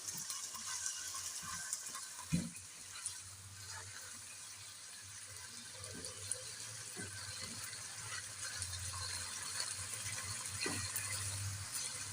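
Chicken pieces frying in a pan for a spicy spaghetti dish, a steady soft sizzle with faint scraping and stirring clicks throughout, close and without talk.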